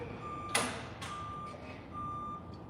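A Genesis GV60 electric car gives a steady electronic tone as it powers down, the pitch holding through the clip with a brief louder chirp near the start, over a constant background hum.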